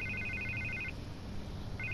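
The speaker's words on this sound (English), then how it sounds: "I can't get the phone to stop ringing." A telephone rings in short electronic trilling bursts, one burst at the start and another beginning near the end, fairly faint over a low background hum.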